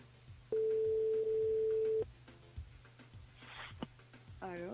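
Steady telephone line tone on a radio station's outgoing call, a single continuous beep lasting about a second and a half, followed by faint background noise and brief light sounds.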